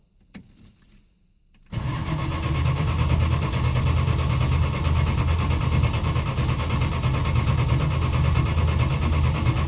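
A few key jangles, then the engine of a 1971 Dodge Dart barn find, sitting for 25 years, cranks and catches into a loud steady running roar that continues to the end.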